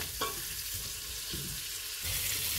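Chopped ingredients for Oran-style harira frying in a pan, a steady close sizzle with a few soft stirring knocks, louder toward the end.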